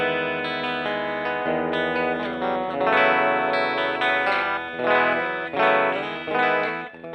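Telecaster electric guitar with original Vintage 52 pickups through a tube amp, warm and slightly driven, chords and single notes ringing out with a touch of chorus and reverb.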